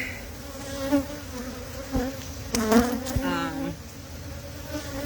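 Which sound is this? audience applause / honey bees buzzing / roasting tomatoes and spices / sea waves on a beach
honey bees buzzing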